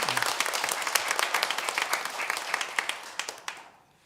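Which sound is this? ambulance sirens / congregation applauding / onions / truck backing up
congregation applauding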